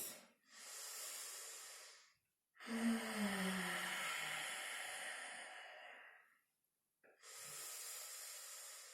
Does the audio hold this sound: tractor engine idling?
no